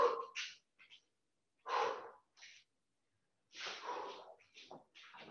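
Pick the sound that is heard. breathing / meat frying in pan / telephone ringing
breathing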